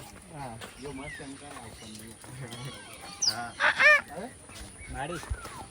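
A galah cockatoo gives several short, harsh screeches in the middle, heard over nearby people talking continuously.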